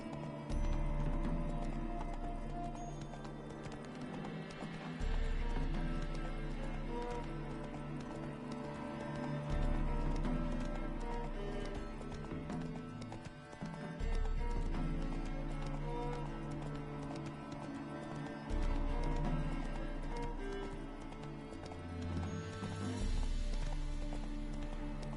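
Roach, the horse in The Witcher 3, plods along with soft clip-clopping hooves, half buried under continuous game music and ambience throughout.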